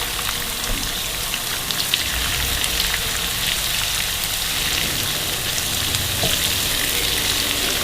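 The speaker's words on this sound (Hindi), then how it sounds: "कुटा हुआ अदरक डालेंगे, इसको फ्राई करेंगे" Steady, loud sizzling of crushed ginger frying in a hot pan, a continuous crackling hiss with occasional stirring sounds and no talking.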